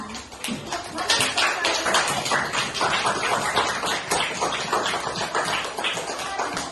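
A classroom of pupils clapping their hands together, a dense, steady patter of many claps filling the room throughout.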